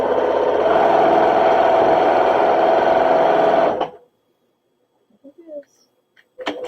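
A sewing machine runs steadily on a quilt block for almost four seconds with a fairly quiet, even whir, then stops, leaving near silence broken by a few faint handling clicks.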